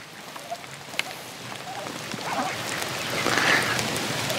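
Steady rain falls over a homestead food garden with fruit trees and vegetable beds, a soft continuous patter and hiss that grows slightly louder toward the end, with no talking.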